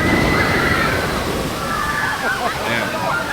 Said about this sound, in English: there's no hiding from the splash that's gonna be boom raining on you